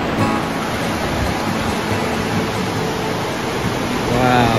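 Water rushes steadily into Convict Lake, a dense, loud and continuous roar of flowing water, with a voice briefly audible near the end.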